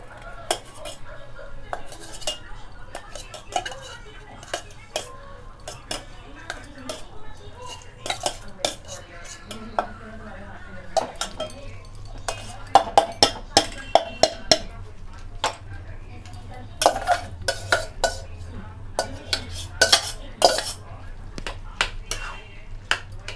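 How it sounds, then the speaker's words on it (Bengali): Cooked kabuli chickpeas are mashed with a metal masher in a pot for ghugni, giving repeated sharp clanks and scrapes at an uneven rhythm, with a low hum underneath and a voice speaking at times. "এখানে আমরা এই ম্যাশার দিয়ে ভালো করে ম্যাশ করে নিচ্ছি।"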